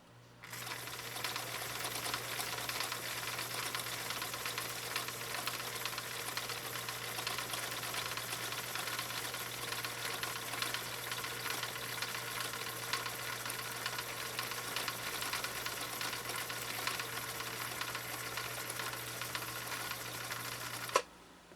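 A 1960 Husqvarna Viking CL-21A sewing machine runs steadily for about twenty seconds, stitching saddle leather with a continuous even mechanical hum and whir, with a faint click at the very end.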